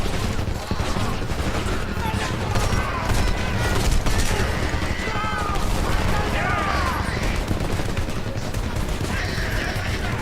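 Gunfire in the war shooter Homefront rattles in dense bursts and scattered shots over a busy battle din, with voices shouting through the fighting.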